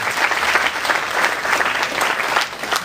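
A conference audience at a sports law session gives loud, dense applause, a steady crackle of many hands clapping without speech over it.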